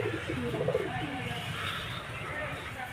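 Racing pigeons coo softly nearby, with low throaty warbling calls over a steady background hum.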